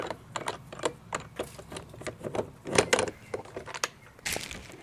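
Phillips head screw being undone from a Porsche 996 door: a quick series of close, sharp ratcheting clicks and metallic ticks, irregular in rhythm, with a louder clatter near the end.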